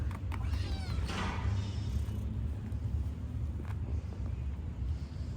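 A kitten meows a few times close by, with its rising cries standing out over a steady low rumble indoors.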